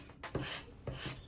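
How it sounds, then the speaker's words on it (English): A wooden dowel is sanded by hand in two long, rasping strokes, each with a brief scuffing start, close up and alone. "I had to do some more sanding."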